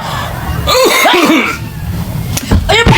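A few loud, close coughs come in two short bursts, mixed with throaty, voiced sounds between them.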